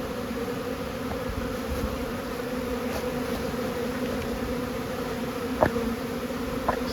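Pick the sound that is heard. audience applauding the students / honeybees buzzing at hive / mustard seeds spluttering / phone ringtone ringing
honeybees buzzing at hive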